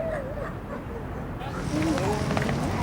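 A puppy from an abandoned litter whimpers in a domestic scene, thin rising and falling whines repeating close by, with low rumbling background noise growing louder toward the end.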